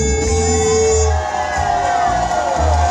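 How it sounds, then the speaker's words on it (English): Live concert audience screaming and cheering at a benefit show, a loud sustained crowd roar with whoops and shrill shouts layered over a pulsing low bass beat from the stage sound system. "Now somebody, anybody, everybody scream!"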